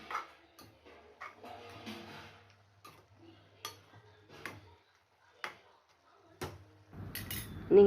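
A spoon scrapes and taps faintly against a pan while goat intestine fry is stirred, in short irregular clinks with quiet pauses between them.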